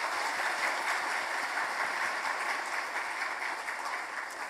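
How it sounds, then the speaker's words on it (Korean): A church congregation applauds after an infant baptism during a Sunday morning worship service, steady dense clapping from many hands filling the room throughout, no voices over it. "큰 박수 부탁드리겠습니다."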